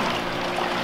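Water rushing steadily into a garden hose being primed for a pump to irrigate a vegetable garden, a continuous close gushing wash with no talking.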